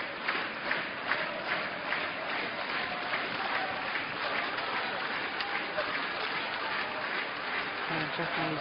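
A badminton crowd at the Metropolitan Gymnasium in Tokyo applauds at the Japan Open, a steady, dense clatter of clapping from a large audience throughout, with a commentator's voice faintly underneath.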